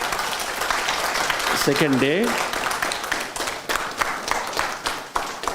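An audience claps steadily throughout, with a brief spoken phrase heard over the applause early on.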